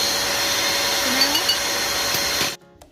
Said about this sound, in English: la licuadora is super loud in the background and it's annoying